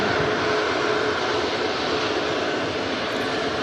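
Ryanair 737 Max 8200 jet taxiing off the runway at Manchester Airport after reverse thrust, a loud, steady broadband engine roar that stays constant and close with no voices.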